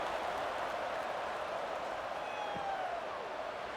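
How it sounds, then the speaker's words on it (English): A stadium crowd at a Hartford Colonials versus Virginia Destroyers preseason football game buzzes after a score, forming a steady, distant roar with no distinct peaks. "this crowd is buzzing after that last score"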